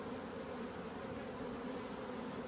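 Honeybees from a nuc hive drone in a steady, soft buzz as frames are lifted and shaken during a hive inspection, with no talking.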